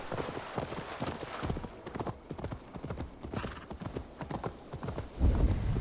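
A horse gallops in the video game Assassin's Creed Valhalla, rapid rhythmic hoofbeats clip-clopping steadily at moderate loudness, with a heavier thump near the end.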